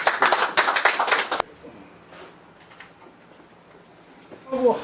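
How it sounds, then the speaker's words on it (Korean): Loud burst of congratulatory hand clapping from a group at an organisation's expanded executive meeting, about a second and a half long, then quieter room noise with faint voices. "축하 박수"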